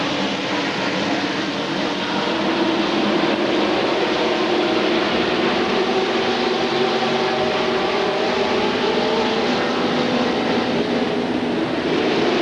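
ARCA stock race cars roar past at Talladega Superspeedway during the 1999 Winn-Dixie 300, a steady, dense engine drone that runs loud and unbroken throughout with no gaps or talk.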